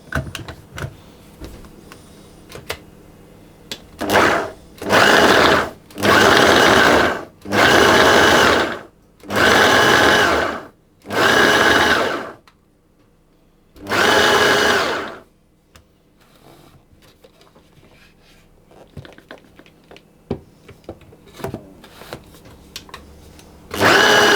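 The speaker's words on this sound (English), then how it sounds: "pulse that a few times to get that butter broken down into the flour, into a sort of crumbly mixture" A food processor pulses butter into flour for a raspberry crumble, giving about seven loud whirring bursts of one to two seconds each with short quiet gaps between them, followed by faint clatter.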